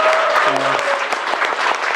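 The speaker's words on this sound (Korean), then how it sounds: "자, 박수 한번 주세요." An audience at a book concert claps together in sustained, dense applause that stays loud and even for its whole short length, with a brief voice murmuring faintly underneath.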